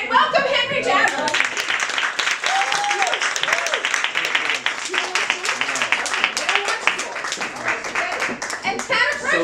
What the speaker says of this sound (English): Clap again.